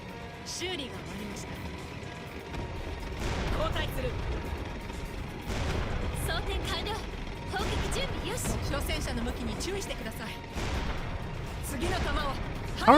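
In the Panzer Knights video game, tank cannon shots boom at close range several times in an uneven rhythm, each a sharp blast with a short rumbling tail, over a steady engine hum and a person talking.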